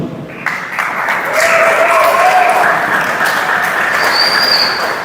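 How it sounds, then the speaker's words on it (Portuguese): Church audience applause after a reading at a talk on peace, a broad sustained clatter of many hands rising and holding steady for several seconds, with a faint tonal ring drifting in and out. "Pode aplaudir."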